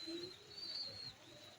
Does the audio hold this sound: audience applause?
no